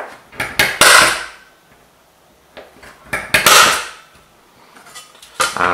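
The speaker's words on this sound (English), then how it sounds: "I'm going to punch those." A hammer strikes a metal punch to mark holes in sheet metal for a model vintage truck project, giving two clusters of sharp, ringing metallic blows close by with quiet pauses between.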